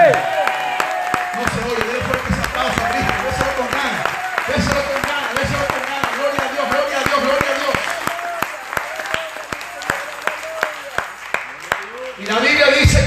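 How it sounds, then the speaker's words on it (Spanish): Congregation applauding during a Spanish-language church service, sustained rhythmic clapping close and loud, with voices and shouts mixed in throughout and claps thinning toward the end. "No se oye, denle fuerte ese aplauso a Cristo."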